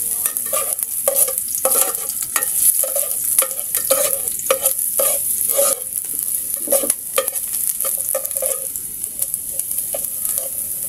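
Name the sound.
ginger sautéing in hot oil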